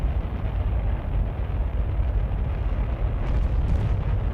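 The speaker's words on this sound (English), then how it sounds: "Oh, stuff's exploding." Rocket parts exploding in Kerbal Space Program, a dense continuous low rumbling roar that stays loud and steady throughout, with no voices over it.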